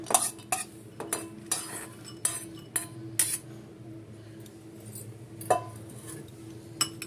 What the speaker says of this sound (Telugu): ఇవన్నీ ఒక బౌల్లోకి వేసుకోవాలి.